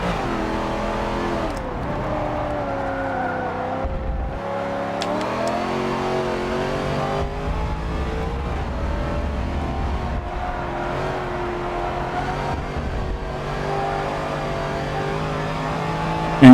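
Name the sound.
Corvette engine accelerating in a racing video game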